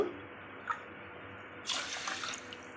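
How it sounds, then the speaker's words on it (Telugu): Water is poured onto washed rice in a pressure cooker, a quiet trickle and splash that swells into a fuller pour near the end. "ఇప్పుడు ఒక గ్లాస్ రైస్కి one and half glass water అయితే వేసుకోవాలి"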